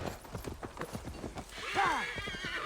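Rhythmic horse hoof clip-clop at a gallop in Assassin's Creed Valhalla under a voice, then a loud horse whinny near the end.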